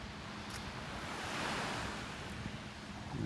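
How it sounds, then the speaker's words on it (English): Ocean waves washing onto a beach, a steady broadband surf roar with a gentle swell in the middle, mixed with wind buffeting the microphone; no voices. "enjoying the sounds of the waves and the fresh air"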